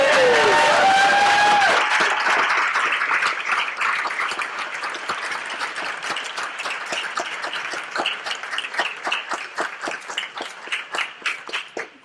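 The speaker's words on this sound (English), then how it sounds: "And one more round of applause for all of tonight's speakers." An audience at a San Diego Mesa College VAMP show applauds the evening's speakers; a loud burst of clapping with cheers starts things off, then the applause thins into scattered claps.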